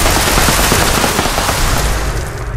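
Rapid automatic gunfire in the video game Fallout 76, a loud continuous burst of shots that runs for the whole stretch with no pauses.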